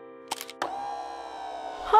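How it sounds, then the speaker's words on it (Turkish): An old camera in a Caillou children's cartoon takes a photo: a couple of quick mechanical clicks, then a sustained whirring hum as the print ejects, fairly close and clear with no talking. "Hey, bizim eski fotoğraf makinesi."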